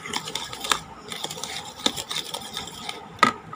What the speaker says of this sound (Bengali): এরপর সবগুলো উপকরণ এভাবে মিক্সড করে নিতে হবে।